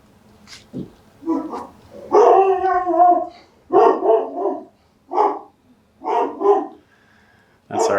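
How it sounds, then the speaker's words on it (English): A pet dog barks in a series of sharp, whining bursts in an otherwise quiet room, several barks stretching into brief yelping howls, fairly close and loud. "That's our dog in the background."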